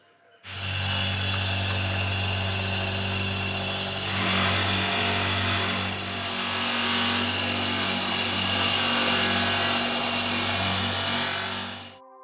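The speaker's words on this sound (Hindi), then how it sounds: "मैं चांदी की अंगूठियां बनाता हूँ और ढलाई करता हूँ और पॉलिश करता हूँ उसकी।" A power tool polishes cast silver rings, running as a loud, steady electric whine and hum for about eleven seconds, swelling slightly midway, alone without speech.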